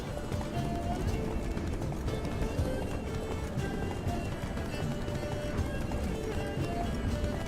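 A horse gallops in The Witcher 3 video game, with steady rapid hoofbeats over a dense, fairly quiet background mix.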